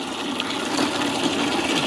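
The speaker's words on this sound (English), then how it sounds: "Put some water in that thing." Water pours steadily into a bucket or ice chest set up for cleaning crappie outdoors, a continuous close rushing splash that holds at an even level for about two seconds without talk.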